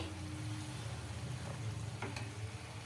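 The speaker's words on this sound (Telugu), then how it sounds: "ఇలా ఆయిల్ వేసుకుంటూ తిప్పుకుంటూ మనము కాల్చుకోవాలి బాగా కాలుతుంది క్రిస్పీగా రావాలన్నమాట" Wheat flour puri frying in oil on a pan, a steady, soft sizzle and crackle that runs on without a break and stays fairly faint.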